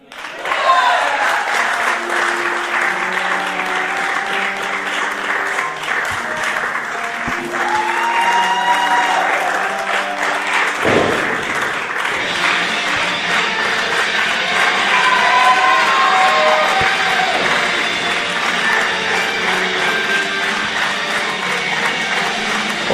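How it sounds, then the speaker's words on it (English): A wrestling crowd applauds and cheers steadily for a wrestler named Cowboy Charlie, with loud, sustained clapping throughout and announcers talking over it. "this crowd excited for Cowboy Charlie, just like you and I are"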